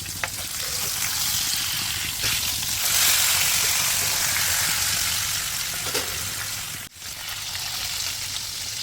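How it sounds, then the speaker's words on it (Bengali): Pieces of tilapia fish fry in hot oil, a steady loud sizzle with crackles running unbroken for several seconds, then a brief dip. "মাছগুলি আমি ভেজে নিচ্ছি।"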